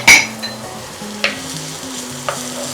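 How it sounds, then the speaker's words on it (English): Onion and garlic sweat slowly together in a pan with a soft, steady sizzle, broken by a few sharp clinks and scrapes of stirring. No one speaks. "we're first gonna start with the onion and garlic. We're just gonna sweat it out slowly."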